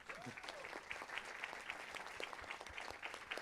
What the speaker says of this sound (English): And I think one round of applause for Takis and team.